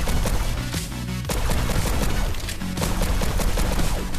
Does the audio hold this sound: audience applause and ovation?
no